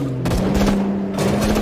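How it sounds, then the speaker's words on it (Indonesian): Rapid gunfire from a gunfight between drug gangsters in a film scene, a burst of overlapping loud shots over a sustained humming tone and dense background noise. "dua gangster narkoba yang sedang baku tembak melintas di hadapan mereka"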